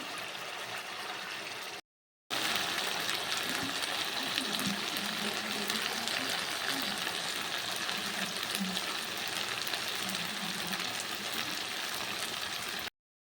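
Chicken pieces fry in oil in a pan, a steady sizzling hiss with soft bubbling and faint stirring, broken once by a brief silence; close and moderately quiet, no talk.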